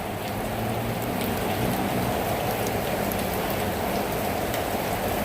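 Heavy rain pours down on Hyderabad during a thunderstorm, a dense, loud and constant roar of drops hitting surfaces, with no speech.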